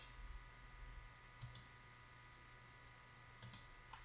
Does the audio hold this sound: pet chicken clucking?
no